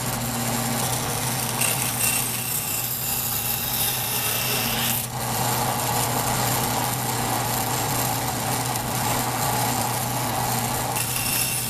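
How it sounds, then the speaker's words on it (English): A bandsaw cuts notched wooden pieces for a double star burr puzzle, with a continuous rasping whir from the blade and motor, close and steady for the whole stretch, with one brief dip in the middle. "now we're just going to cut with the bandsaw right there and right there"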